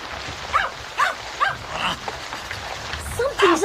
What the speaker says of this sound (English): Then Timmy began to bark again